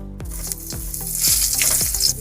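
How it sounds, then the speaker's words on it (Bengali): Eggplant pieces frying in hot oil in a village kitchen kadai, a sizzle building over a couple of seconds with a few stirring scrapes, no speech. "এবার বেগুনগুলো ভেজে নেবো।"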